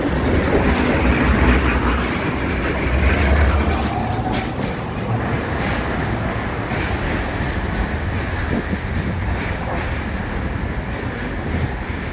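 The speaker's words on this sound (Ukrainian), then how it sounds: "Такі наші львівські трамваї, йдемо вулицею." Lviv tram rolling along a street paved with stone cobbles, a loud continuous rumble and rattle of wheels on rails close by, with no talk.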